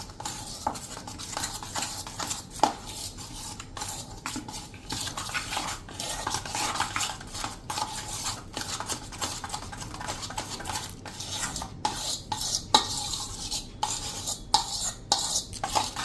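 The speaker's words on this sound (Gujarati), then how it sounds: "આ રીતે એકદમ સરસ એનું ઘી અને ચણાના લોટનું બેટર મિક્સ કરી લેશું." Spoon stirring a ghee and gram flour batter in a metal pan while making mesub, continuous scraping and clinking strokes throughout, close and steady with no talking.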